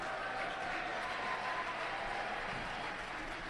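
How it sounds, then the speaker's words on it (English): Crowd at a men's college volleyball game, Master's versus UC Irvine, applauding in a dense, steady wash of clapping and murmur that fills the arena without a break. "the crowd kind of applauds on that one"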